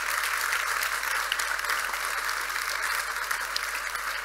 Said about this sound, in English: a big round of applause for our panel